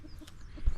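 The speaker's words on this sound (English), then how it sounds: "these chickens are happy as ever" Chickens at a coop give soft, low clucks in a short burst, close by, with a few muffled knocks and no one talking.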